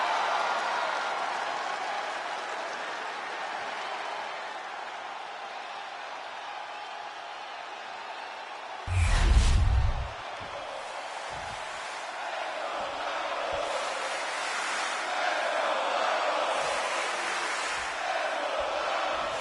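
Arena crowd in the WWE 2K25 wrestling game roars with steady broad cheering and applause that swells in waves, with a brief loud burst near the middle as an entrance hits.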